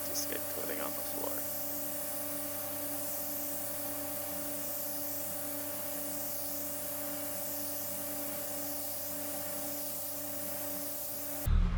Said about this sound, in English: Then you can spray the anti-skid coating on the floor.